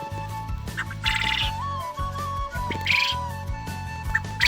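Quail call in short chirps and squawks, close and overlapping, over a low rhythmic hum and a faint whistling tone.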